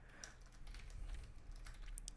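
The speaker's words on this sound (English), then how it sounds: "I'm not good at typing." Light, irregular clicking of keys on a computer keyboard, a quick run of taps at moderate distance with no talking.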